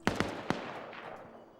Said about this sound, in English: So you're hearing grenades going off.